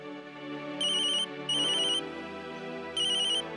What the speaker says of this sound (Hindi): ओ नो, मीता का फोन है, मैं तो भूल ही गई।